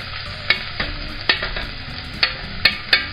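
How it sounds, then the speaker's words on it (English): Chopped carrot, celery and onion sizzle gently in a hot pan for crab bisque, with sharp scraping clacks of a utensil stirring at irregular intervals. "I'm going to fry them gently for 5 minutes."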